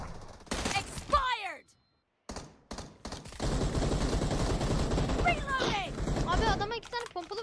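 Shotgun fire in the PUBG Mobile shooter game: sharp gunshot bursts crack out in quick clusters, broken by a short gap, with players' voices talking over much of the action.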